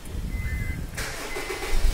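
A car engine cranks briefly and catches right after its battery wires were refitted, the starter whir giving way to a running engine hum, close and alone.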